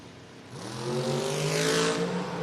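Ford Mustang drag cars launch down the strip at a Door Wars drag racing event, with engines rumbling low and then building into a loud, rising roar as they accelerate away.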